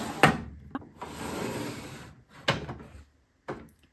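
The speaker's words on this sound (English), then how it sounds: "let me open up that drawer" A makeup drawer slides open with a wooden scrape, framed by a few sharp knocks and clicks, close up and quiet otherwise.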